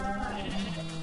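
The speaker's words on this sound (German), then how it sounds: "Gott, die Schafe, die sind aber schon richtig aktiv hier wieder." Sheep bleating in Minecraft, a steady nasal bleat lasting about a second, moderately loud and close, with no talking over it.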